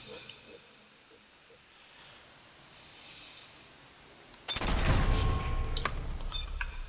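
A loud sudden burst of gunfire from a sniper rifle headshot in the video game Sniper Elite 4, on San Celini Island, breaks in after a quiet stretch of low ambient noise and rings on with a decaying tail.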